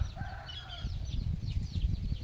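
Chickens cluck repeatedly in a backyard jackfruit garden, a busy layered flock with some higher calls over a steady low rumble, no talk.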